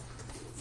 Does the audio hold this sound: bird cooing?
yes